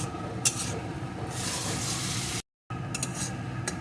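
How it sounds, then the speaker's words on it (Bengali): Carrots cooking in a pan and being stirred steadily, giving a continuous soft sizzle and scraping with a few sharper clinks, fairly quiet, broken by a brief silent gap. "সমানে এইভাবে নেড়ে নেড়ে একটু রান্না করে নেব"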